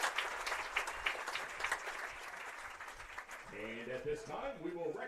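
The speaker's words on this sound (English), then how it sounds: "Let's hear one more big round of applause for King Memphis Luganville." Crowd applause at a high school homecoming football game honoring the homecoming king, a steady roar of clapping that thins near the end as a voice speaks over it.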